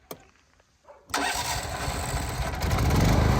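A petrol generator engine cranks with a brief pull, then catches and settles into a loud, steady running roar close by that grows slightly stronger.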